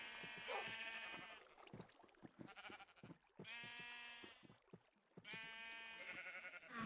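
Sheep bleat in a Minecraft farm, three drawn-out, wavering game bleats spaced evenly apart, clear and alone with no talk over them.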